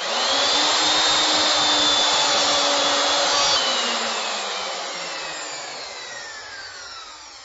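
Wood router making a final cut in stair stock, a loud steady high whine with a dense cutting hiss that holds, then gradually falls in pitch and volume as the bit slows toward the end.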